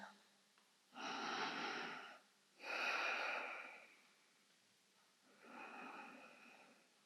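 Slow, audible breaths during a restorative yoga twist, three long airy inhales and exhales close to the microphone, separated by quiet pauses.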